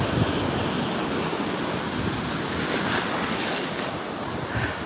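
Ocean surf at Cocoa Beach rolls in with a broad, steady wash of breaking waves, hissing foam and light wind buffeting the microphone, continuous and fairly close, no voices.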